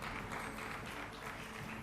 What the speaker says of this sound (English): Once again, a huge round of applause for Raj Shamani.